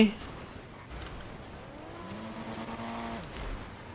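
A car in the game GTA V on a FiveM server drives off with a rising engine note and a brief tire squeal. The sound is fairly faint and continuous.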